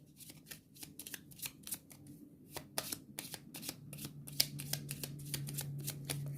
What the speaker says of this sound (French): Je remélange bien ce paquet ennemi.